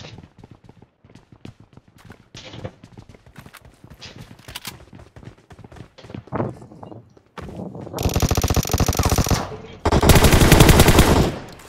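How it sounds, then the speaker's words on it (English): Gunfire in the PUBG battle game: scattered single shots and short bursts, then long dense bursts of automatic fire, loud and close, with a voice talking over it. "I don't know where the bullets are coming from."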